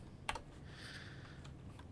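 A few scattered keystrokes on a new computer keyboard during coding, sharp isolated clicks at the start and end with quiet gaps between, faint and close.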